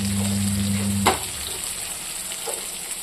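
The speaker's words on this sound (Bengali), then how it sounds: "তিতা কেরালা কেটে ভাজা করছি, একটু ভাজা ভাজা করে নেব।" Cut bitter gourd (karela) fries in a pan with a steady close sizzle and a sharp clack partway through, followed by continued crackling and no voices.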